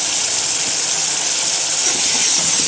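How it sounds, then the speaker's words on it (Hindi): Potatoes and peas frying in a pan for salan give off a steady, loud hissing sizzle that holds even and unbroken from start to finish. "इसे अच्छी तरीके से भूनना है"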